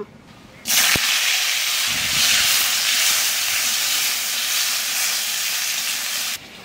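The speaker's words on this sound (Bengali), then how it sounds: "মাছ ভাজা তেলের মধ্যে আলুকে এখন একটু ভাজিয়ে নেব" Potatoes dropped into hot oil left over from frying fish set off a sudden loud, continuous hissing sizzle that holds steady for several seconds before cutting off.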